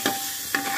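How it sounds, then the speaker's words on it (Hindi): Onions frying on a medium-low flame for Amritsari pindi chole, with a soft sizzle and two brief scraping stirs of a spoon through the pan. "प्याज को मीडियम लो फ्लेम पर बहुत आराम से हिलाते हुए इसको भूनें"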